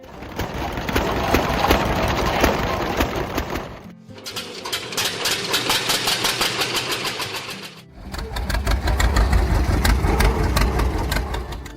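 A John Deere Model D tractor engine runs in three continuous stretches, broken by two short dips. It is a loud, steady mechanical chugging throughout, with a heavier low rumble in the last section.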